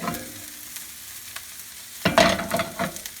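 Onions for lentil dahl cooking in a pot, a quiet low simmer with scattered soft clicks, then a louder burst of sizzling and stirring scrapes in the last second, close by with no voices.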